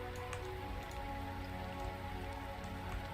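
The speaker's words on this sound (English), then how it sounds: "And of course, luckily it's raining, so yeah, a lot of that's taking care of itself at the moment as well." Steady rain falls in the video game Starbound, a dense, even patter of drops hissing without pause throughout, with no voices over it.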